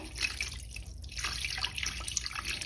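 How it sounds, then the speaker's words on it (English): Liquid is poured steadily into a pot around a chuck roast, a continuous close splashing trickle with no talking. "I'm going to pour this all around it. Just pour it around it."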